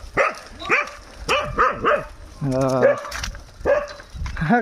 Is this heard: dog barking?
yes